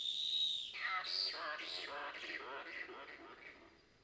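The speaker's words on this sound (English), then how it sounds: "it is a yellow-bellied glider. It is a relation of the sugar glider." A yellow-bellied glider, a marsupial related to the sugar glider, gives a series of shrill, rising and falling screeching calls, fairly faint and distant, lasting several seconds with no talk over them.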